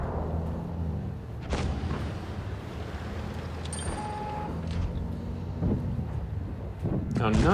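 A tank cannon in World of Tanks Blitz fires, aimed at a Churchill. The shots come as a few sharp, heavy booms, one early and one near the end, over constant wind-like game ambience and a talking voice.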